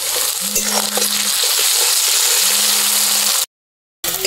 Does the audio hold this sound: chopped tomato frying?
yes